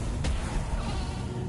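Short goat bleat from the video game Cult of the Lamb, a single brief cry near the start over a steady background of game music and ambience.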